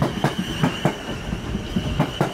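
Rhythmic wheel clicks over rail joints sound from a South West Trains class 444 departing Guildford, paired beats repeating every half second over a continuous low rumble, fairly close.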